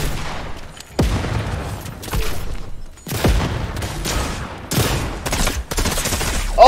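Rapid shotgun blasts and gunfire in a Fortnite match, several loud sharp bursts in quick succession with echoing booms between them.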